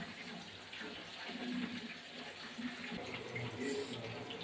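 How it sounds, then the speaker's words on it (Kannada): Mutton keema ball sambar boils in a pot, giving a continuous soft bubbling and simmering wash at modest level, with faint background voices. "ಕುದೀತಾ ಇದೆ ನೋಡಿ"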